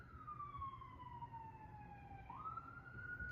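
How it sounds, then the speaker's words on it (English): An emergency vehicle siren wailing in the distance, a faint, steady tone sliding slowly downward then jumping back up, over a low background hum. "Sirens."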